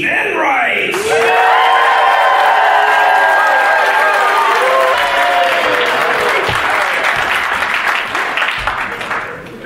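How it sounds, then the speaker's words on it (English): A live show audience in Las Vegas applauds loudly, with cheering and whoops layered over sustained clapping. Tonal, music-like sweeps ring through the opening seconds, then the applause fades slightly toward the end. "please keep that applause going"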